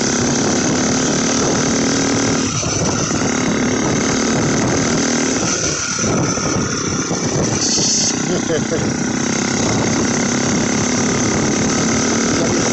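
A turbocharged car engine, a failing untuned V3 turbo build, drones loudly and steadily throughout at close range, revving with a rising spin-up while people talk over it.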